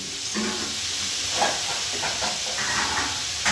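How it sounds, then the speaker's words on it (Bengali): Cauliflower curry fries in a pan with a steady close hiss and sizzle, joined by a few soft scraping stirs. "খুব ভালো করে ভেজে নিতে হবে।"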